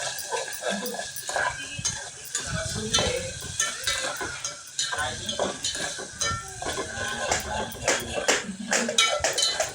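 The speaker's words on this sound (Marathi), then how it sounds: "त्याला पण अजून एकदा तेल सुटेपर्यंत भाजून घेऊयात" Spicy potato curry gravy fries in oil while a spoon stirs and clinks against the pot in busy, uneven strokes over a steady sizzle, close by.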